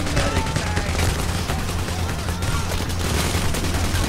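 Rapid automatic gunfire rattles through a chain link fence during a firefight in Payday: The Heist, with loud, dense bursts of shots running continuously and faint voices beneath.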